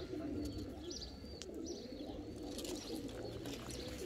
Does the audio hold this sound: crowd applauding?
no